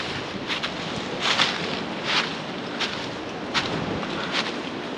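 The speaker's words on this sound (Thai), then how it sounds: "แต่ลมนี่บอกเลยว่าสุดยอดลม" Strong wind gusts outdoors in a rural setting, a steady rushing roar with repeated louder buffets striking the microphone, heard alone without talk.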